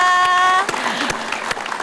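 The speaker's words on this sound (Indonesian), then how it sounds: "tepuk tangan untuk Tia" A short musical sting gives way to a burst of studio audience applause for Tia, an Indonesia Open gold medalist appearing as a guest, sustained and fairly close until the clip ends.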